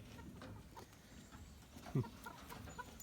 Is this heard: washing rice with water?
no